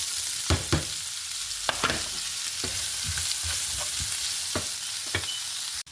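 Two large chopped onions fry in a pan for chicken tikka masala, a soft steady sizzle broken by intermittent clacks and scrapes of stirring, fairly quiet and without voices.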